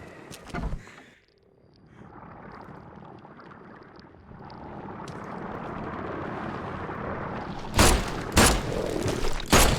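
Several loud, sharp gunshots ring out in The Sinking City video game, arriving in a quick burst of three or four reports near the end after a stretch of rushing, watery ambience.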